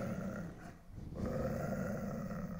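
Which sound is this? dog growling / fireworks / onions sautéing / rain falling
dog growling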